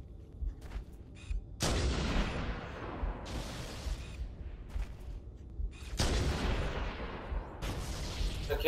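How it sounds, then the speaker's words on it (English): Enemy gunfire in Halo: Combat Evolved on legendary difficulty, with repeated bursts of loud weapon fire and booming blasts that crash in and decay over the seconds between them, close and heavy. "Fire at me, bro. Fire at me."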